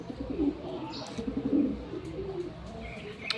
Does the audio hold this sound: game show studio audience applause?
no